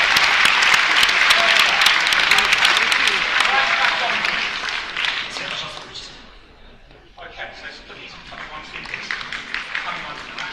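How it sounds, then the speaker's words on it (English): A science festival audience applauds young scientists with loud, dense clapping that thins out after about six seconds, briefly dropping away before scattered claps and a murmur of voices return. "give a massive round of applause to our scientists"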